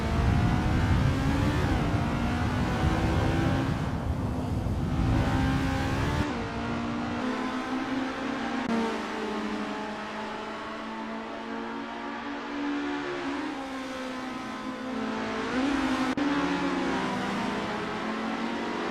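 Formula race car at Vallelunga with its engine roaring loud and steady up close, pitch climbing and shifting as it draws alongside another car to pass, with no talk over it.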